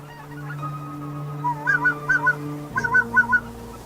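Several geese honk in quick bursts over a steady low drone in the Yukon delta, the calls loud and close, coming in two clusters.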